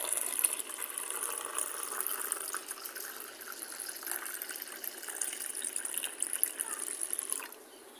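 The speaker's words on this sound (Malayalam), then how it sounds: "ഇനി നമുക്കിത് ഈ ഗ്ലാസ്സിനകത്തോട്ട് ഒന്ന് ഒഴിച്ച് മാറ്റാം." Lemonade made with lime is poured steadily into a glass, a continuous close liquid splashing and trickling for about seven seconds before stopping, with no talk.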